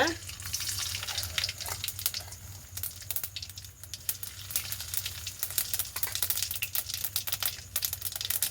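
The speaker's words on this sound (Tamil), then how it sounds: "இப்போ நாங்கள் கடுகு போட்டுக்கொள்கிறோம் முதல்ல." Mustard seeds splutter and pop in hot coconut oil in a pan, a continuous close crackling sizzle with dense irregular pops throughout, moderately loud.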